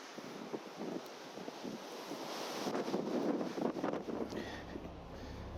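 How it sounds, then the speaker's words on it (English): Strong wind gusting around trees on a path near an old farm yard, rushing and buffeting the microphone, swelling louder in the middle and staying constant with no talk. "Yeah, kind of crazy wind though."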